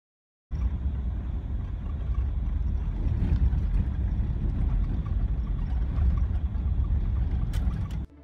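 A big Chevy driving on a dirt road turned to slick mud by melting snow, heard from inside as a steady, loud, low engine rumble and road roar that starts suddenly and holds with no voices.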